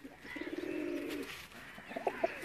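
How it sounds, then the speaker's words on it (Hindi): Close, throaty cooing from pigeons at Kot Ishaq, Hafizabad, a longer rolling coo followed by shorter bursts, with faint chirps and ambient noise behind. "ये सब है कबूतर मनूंगा।"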